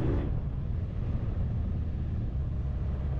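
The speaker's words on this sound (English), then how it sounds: "You see, you give it a rev, you know where the friction zone is, and then when you rev it," A motorcycle engine revs steadily while the rider works the clutch friction zone, a loud continuous low rumble throughout with no talk.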